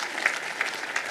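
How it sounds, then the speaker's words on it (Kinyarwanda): Steady clapping from a wedding audience in Rwanda, a brief continuous patter of applause with a few sharper claps standing out. "Reka twongere duhuze ibiganza dukoma amashyi menshi cyane"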